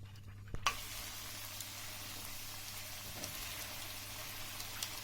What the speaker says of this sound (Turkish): Salçayı iyice kızartacağım.